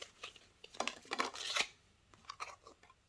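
Tarot cards drawn and shuffled from a deck for a pick-a-card reading, a run of crisp papery rasps and slides bunched in a short burst, then a few lighter flicks, close and fairly quiet with no talking.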